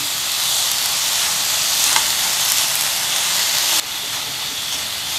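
Sandwich filling mixed with chili garlic sauce in a hot pan, a loud, constant hissing sizzle with faint stirring that drops slightly in level near the end.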